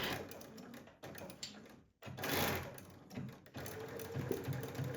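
A sewing machine runs a quarter-inch French seam in continuous stretches, the close mechanical whir broken by short pauses, with no talking.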